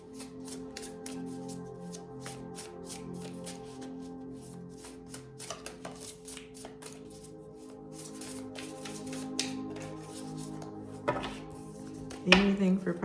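Tarot cards shuffled by hand in a series of soft riffles and taps over about thirteen seconds, with a faint background hum and a sharper clatter near the end.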